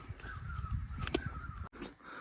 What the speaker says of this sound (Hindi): जंगल के बीच चिड़ियाओं की क्या आवाज़ आ रही है